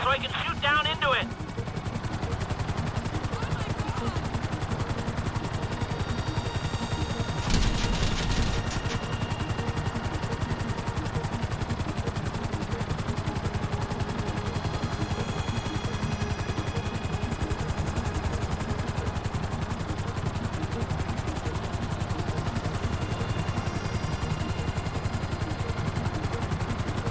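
Helicopter hovering in GTA 5, a steady whirring rotor drone running throughout with a brief burst of clatter partway through and a voice talking over it.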